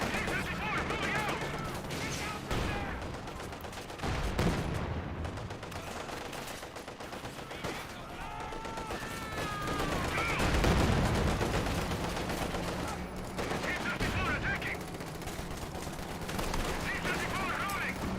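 Gunfire in the World War II strategy game Company of Heroes 2 comes as dense, continuous bursts of shots and explosions, with someone talking over the battle at times.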